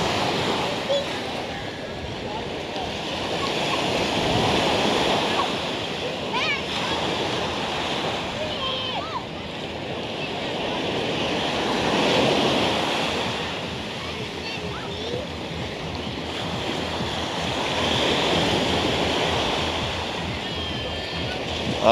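Ocean waves wash onto the beach at Waikiki, Hawaii, in a steady loud surge that swells and recedes every few seconds, with wind noise on the microphone and a person talking over the surf.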